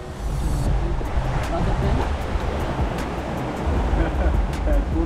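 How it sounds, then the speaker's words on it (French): Rushing water of the river ride at Walibi amusement park, a steady broadband roar close by and loud throughout, with people talking over it. "Oh oui, la rivière."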